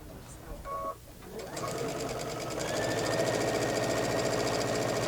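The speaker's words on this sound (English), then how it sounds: "So I sew up right up until where those two lines crisscross" A sewing machine stitches steadily and loudly at a decorating-focused sewing session, its rapid mechanical hum and needle clatter starting after a brief pause and running continuously with a faint voice underneath.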